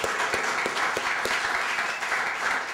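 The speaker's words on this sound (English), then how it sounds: "So let's give this sister a great round of applause here at Al Kareem." Steady applause fills a branch library for a poet at a poetry reading, a dense wash of many hands with a few sharper individual claps standing out, continuous and fairly loud throughout.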